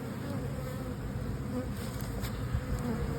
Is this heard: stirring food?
no